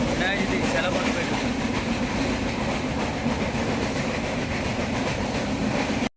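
The Mandovi Express running on the rails in Goa gives a loud, continuous rumble with rhythmic wheel clatter heard from aboard, holding steady until it cuts off abruptly at the end.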